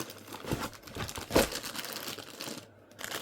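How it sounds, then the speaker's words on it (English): Plastic packaging for cross-stitch fabric or thread crinkles and rustles up close, with a zipper pull mixed in, one sharper crinkle burst standing out near the middle before a brief lull and more rustling. "double the noise with the zipper and the crinkle"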